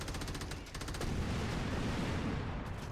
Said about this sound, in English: What is exploding?